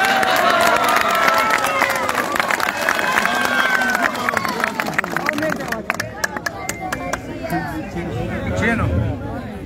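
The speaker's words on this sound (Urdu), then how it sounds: "بھائی آپ کے تالیوں میں کنجوسی نظر آ رہی ہے" A large political rally crowd in Pakistan claps and cheers, loud and continuous at first, then thinning into scattered claps and crowd chatter before building again.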